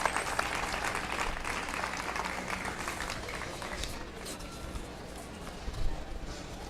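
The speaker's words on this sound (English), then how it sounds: "Let's give him a big round of applause." Audience applause ringing out in a livestock show barn at a county fair, a broad steady patter of many hands sustained throughout at moderate distance, fading slightly near the end.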